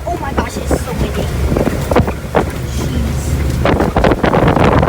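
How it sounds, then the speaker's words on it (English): Strong wind buffets the microphone on a boat out on the water during a Fourth of July outing, a loud, constant low roar with gusty bursts, while people talk over it. "Oh my gosh, it's so windy."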